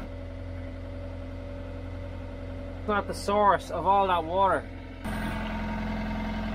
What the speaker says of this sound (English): So I've turned the engine back on, water pump on, I have the tap on.